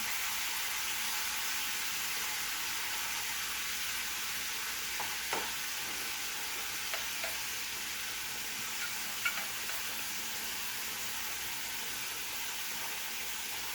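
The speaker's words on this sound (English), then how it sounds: "Now I'm going to add the can of tomatoes with whatever juice remains. Give these a quick stir here." Canned tomatoes and their juice cooking in a pan give a steady, faint hiss and sizzle, with a few soft scrapes of a stirring utensil near the middle, no voices.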